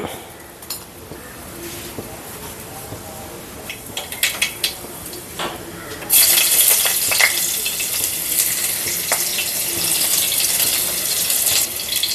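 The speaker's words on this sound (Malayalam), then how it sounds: "നമുക്ക് ഇച്ചിരി എണ്ണ ഒഴിച്ചു കൊടുക്കാം" Oil is poured into a pan for a leaf stir-fry. A quiet stretch with a few clinks gives way to a sudden, loud, steady sizzle that continues to the end.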